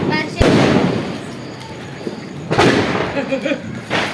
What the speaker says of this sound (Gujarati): તો વિવાને ભમ સકડી ફેરવે છે